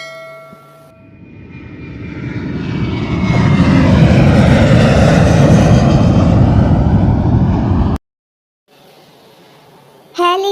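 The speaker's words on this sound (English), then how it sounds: "Airplane," An airplane flying past, its engine roar swelling from faint to a loud, broad sustained rumble for several seconds before cutting off abruptly, followed by a short spoken word.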